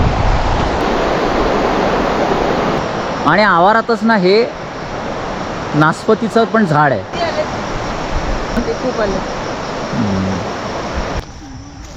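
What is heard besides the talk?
river flowing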